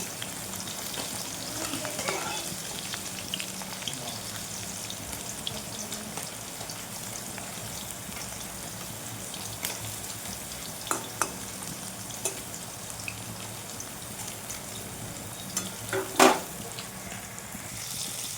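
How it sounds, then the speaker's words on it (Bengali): Pumpkin pieces fry in a pan for a pumpkin bharta, a continuous crackling sizzle with intermittent stirring clinks and a sharper utensil knock near the end; no one speaks. "কুমড়োগুলো আগে ভেজে নেবো"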